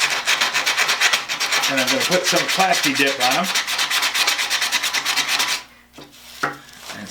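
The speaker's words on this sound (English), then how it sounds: "So I'm sanding off the rust on the handles," Sandpaper rubbing rust off the metal handles of an old tool, a steady, close, raspy scrubbing that runs continuously for several seconds before stopping, with someone talking over it.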